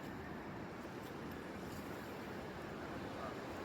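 Sea waves wash in continuously at Baga beach in Goa, a steady broadband surf rumble mixed with wind buffeting the microphone, with no clear breaks.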